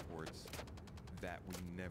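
Gunfire exchanged in the Star Citizen space game during a boarding-ramp firefight, a run of sharp rapid shots spread across two seconds, mixed with other game sounds and a voice talking over the action.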